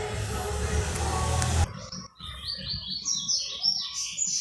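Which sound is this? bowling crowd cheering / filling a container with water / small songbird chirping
small songbird chirping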